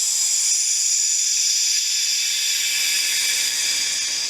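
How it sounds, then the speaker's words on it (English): A Drinkworks Home Bar cocktail machine hisses steadily as CO2 carbonates a drink, a continuous close airy rush that holds evenly for several seconds with no talking. "That's the sound of the CO2 there, carbonating the drink,"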